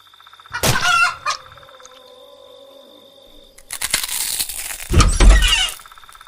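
Chickens cluck and a rooster crows at a neighbour's coop in an animated Tagalog aswang story. Two loud bursts of fowl calls are split by a quieter stretch with a held, tonal cry.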